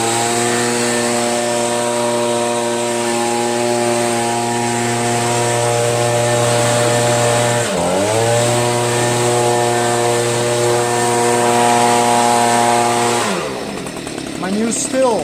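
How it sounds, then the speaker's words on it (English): A Stihl SH85 handheld blower runs steadily at close range, clearing debris off a new driveway with a loud, sustained engine drone that dips briefly once, then fades as it throttles down near the end. "My new Stihl SH85. Thanks, Larry. Works great"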